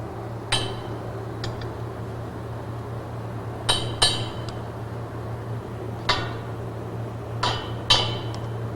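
Steel welding plate being knocked down into position with a hammer or tool, sharp metallic clinks struck at irregular intervals, about eight hits, ringing briefly over a steady low hum.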